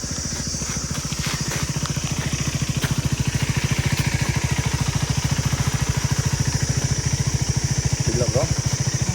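Off-road motorcycle engine running after a water crossing, with a rapid, steady idling chug that is loud and close throughout, plus faint clatter.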